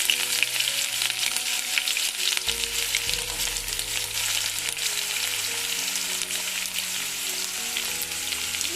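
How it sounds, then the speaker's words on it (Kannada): Mustard seeds and chopped onion fry in hot oil in a pan for green gram usuli, giving a loud, continuous close sizzle with occasional stirring and no talk. "ಸಾಸಿವೆ ಹಾಕ್ತಾ ಇದ್ದೀನಿ. ಆನಿಯನ್ ಹಾಕ್ತಾ ಇದ್ದೀನಿ"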